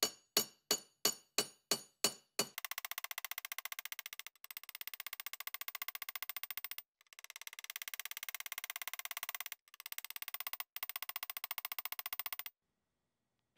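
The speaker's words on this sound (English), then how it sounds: "I cold forged the edge of the blade." A run of sharp metallic hammer blows cold forging the edge of an aluminum bronze knife blade, first slow and separate, then a rapid steady hammering that continues with brief pauses.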